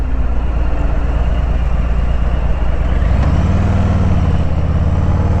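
A Harley-Davidson Fat Boy motorcycle engine rumbles loud and close while riding, a steady heavy drone that shifts upward in pitch partway through as the bike changes speed.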